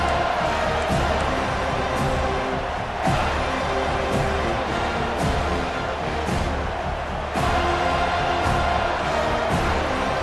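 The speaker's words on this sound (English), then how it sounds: "This crowd trying to show them what it's going to be like all day in this house." Stadium crowd in the College Football 25 video game roaring steadily and loudly for the full stretch, a dense sustained cheer with surges, under faint commentary.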